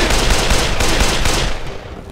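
Dense, loud gunfire from pistols and single-shot rifles in the video game Dead Island, a rapid continuous barrage of overlapping shots that eases slightly toward the end, with no talking.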